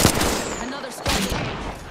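Incoming gunfire strikes the player in Apex Legends, rapid automatic bursts in two clusters separated by a short gap, with a voice speaking over the shots.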